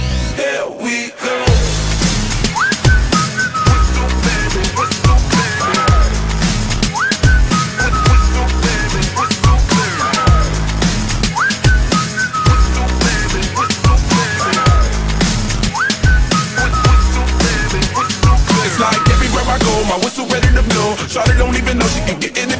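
Melodic whistling rides over a thumping music track with a steady beat, bright and prominent throughout.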